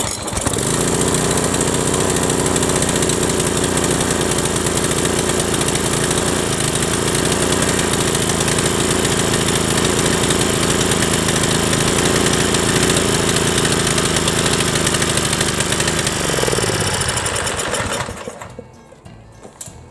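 A Briggs & Stratton small racing engine with a faulty governor runs loud and steady, close by, with a rough, rattling idle. It sputters out near the end.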